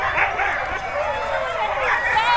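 Several husky sled dogs yip and bark together at a dog sledding race in Australia, a busy, excited chorus that runs steadily from start to end, with voices mixed into the noise.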